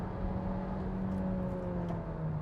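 Seat Ateca engine during a 0-100 acceleration run, heard from inside as a steady, droning engine hum with rising tonal whine, continuous and fairly loud.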